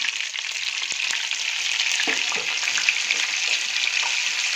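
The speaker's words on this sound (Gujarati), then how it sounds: "આને આપણે થોડું ચલાવી દઈશું." Paneer masala sizzles and fries steadily in a pan as it is stirred, with a dense hiss throughout and scattered scraping clicks from the stirring, loud and close, without speech.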